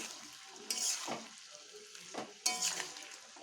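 Pointed gourd sautéing in a pan with a splash of water gives off a low simmering sizzle, broken by two sharp bursts of spoon stirring and scraping against the pan.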